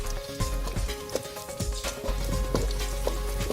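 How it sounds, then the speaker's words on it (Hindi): Onions fry in a pan over a wood-fired stove (chulha), giving a steady, close crackling sizzle with small spitting pops, with no talk over it. "अब हम प्याज को पकने देंगे।"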